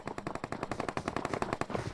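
Automatic gunfire from a battle royale video game rattles in a fast, even burst of about twenty shots. The rapid cracks are loud and sustained across the whole two seconds, with no voices.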